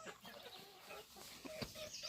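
Chickens clucking inside a farm coop during morning chores, a dense cluster of close, overlapping clucks and squawks with a few sharper calls standing out, steady and busy throughout.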